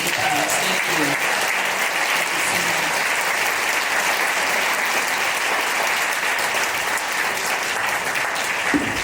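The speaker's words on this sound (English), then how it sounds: "Please, everyone, give our panelists a round of applause." An audience applauds panelists at the close of a law enforcement panel at a conference, a dense, steady ovation of many clapping hands that holds at full loudness throughout.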